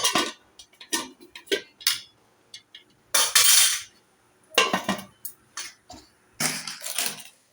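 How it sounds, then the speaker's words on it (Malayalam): Metal clinks and clatters from a cooking pot and its lid being handled, a series of short sharp knocks and scrapes with quiet gaps between them, close and fairly loud. "നമുക്ക് അടപ്പ് വെച്ച് അടച്ചു കൊടുക്കാം"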